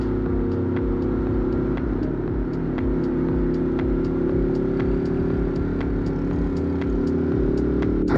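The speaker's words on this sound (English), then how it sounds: "I removed my DB killer last night, so no more silencer on my exhaust." Ducati motorcycle with the dB killer removed from its exhaust, riding around Manhattan: a loud, steady, throaty engine drone runs throughout with low rumbling pulses and no talk.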